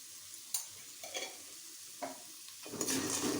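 A spoon stirs a spicy puffed rice snack mixture with peanuts, roasted gram and garlic in a pan, giving a few sharp scrapes and light sizzling, then a denser rustling swirl as the mix is tossed.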